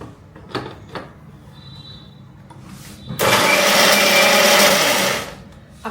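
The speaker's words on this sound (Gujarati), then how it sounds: "આને એકદમ આપણે જે બજારમાં આવે ને એ રીતે જ ગ્રેવી આની બનાવી લેવાની છે મિક્સરમાં" A kitchen mixer grinder whirs loudly for about two seconds while blending paneer butter masala gravy, after a few quieter knocks and clicks beforehand.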